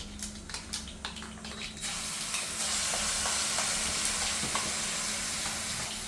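Onions and other raw ground ingredients fry in a pan. A few clinks come first, then a steady, fairly loud sizzle sets in after about two seconds and continues.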